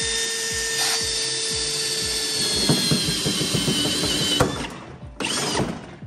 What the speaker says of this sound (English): let me try to do this at a higher speed, and you can see this drill moving in steps